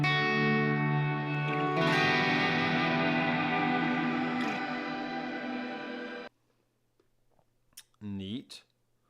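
A Fender Tone Master Pro guitar processor runs a pitch decay effect: a heavily processed electric guitar chord rings for about six seconds and cuts off abruptly, followed by near silence and a couple of short, pitch-sliding blips.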